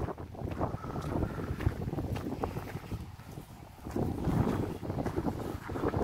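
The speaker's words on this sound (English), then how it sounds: "bloody wind's going good, isn't it?" Gusty wind buffets the microphone at a disused railway station platform, a steady rushing roar that swells and dips, close and loud, with no speech.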